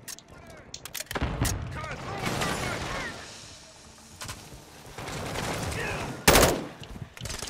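Gunfire in Call of Duty Modern Warfare II, bursts of rapid automatic shots and scattered single reports mixed with game effects, with a player talking over parts of it.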